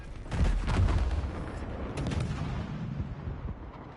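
Missile launches and impacts in the naval combat game World of Warships Legends, heard as a dense burst of booming blasts and rumbling explosions in quick succession, loud and close, fading into a lower rumble.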